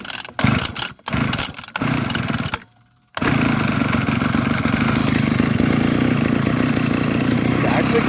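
A small direct-drive bike engine sputters through a few short bursts, goes quiet briefly, then catches and runs steadily, loud and close.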